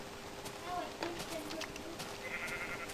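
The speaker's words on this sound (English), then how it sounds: "I love some sheep." Minecraft sheep bleat softly in the distance over a low ambient game background, with a few short bleats scattered through the moment.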